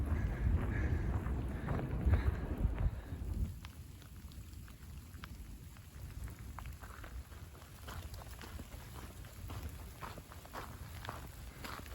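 Rain on a mountain trail between Echo Summit and Meiss Meadow, a soft steady patter of drops with scattered sharper taps and rustling, louder for the first few seconds and then quieter and fainter.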